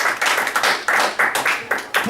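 A church congregation claps in a steady rhythmic beat, loud and roomy, with about ten even claps alone and no talk.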